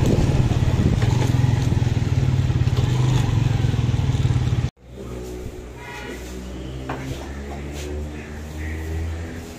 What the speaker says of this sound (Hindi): पेट्रोल डलवाते हैं मोटरसाइकिल में